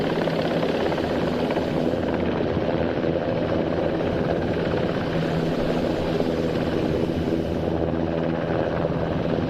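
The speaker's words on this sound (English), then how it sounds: "that was the NH Industries NH90 Tactical Transport Helicopter" An NH Industries NH90 tactical transport helicopter hovering at an air show display, a steady loud rotor and turbine roar filling the whole stretch without pause.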